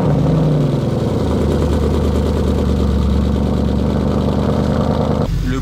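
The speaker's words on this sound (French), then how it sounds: "on va démarrer la SLS. Vas-y, je vais la démarrer avec vous." A Mercedes SLS starting up and then idling: a deep, loud, steady engine rumble that holds for about five seconds and then drops off sharply near the end, with faint voices in the background.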